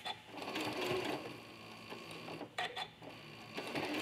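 A sewing machine stitching through a mini quilt, its motor whirring in a steady close run with brief pauses and restarts.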